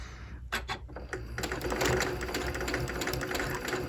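A Janome sewing machine stitches curved quilt piecing; a few sharp clicks come first, then the machine runs in a fast, steady whirring rattle for the rest, close and fairly quiet.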